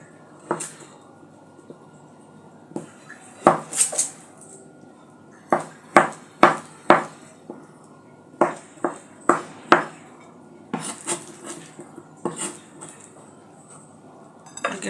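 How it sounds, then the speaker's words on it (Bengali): A knife slices bananas one after another for a custard recipe, making a series of sharp clicks and taps against a plate or board, close and clear, in short irregular bursts with pauses. "এক এক করে আমি 4টা কলা কেটে নেব।"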